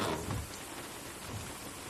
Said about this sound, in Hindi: बारिश देख रही हो?